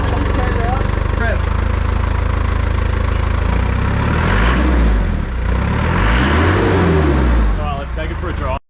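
A loud turbocharged car engine runs with the exhaust removed, giving a raw, uncapped rumble, revving up and down twice, with a turbo whistle rising over the roar.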